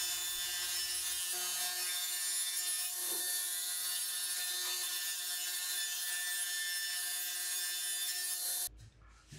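A power saw cuts through cedar boards in one long, loud, steady whine that stops abruptly near the end.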